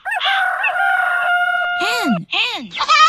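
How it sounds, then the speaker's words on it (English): A rooster crows loudly and close up, one long drawn-out call that rises and falls, followed by a couple of shorter squawking notes. "Rooster. Rooster."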